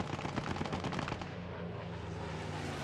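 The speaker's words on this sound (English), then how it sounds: "I'm not sure where that strafe, that might have been an allied strafe, not quite sure where it went" Rapid automatic gunfire from an aircraft strafing run in the Post Scriptum WWII shooter, a loud continuous burst of rounds during the first half that fades into a rumbling, echoing tail.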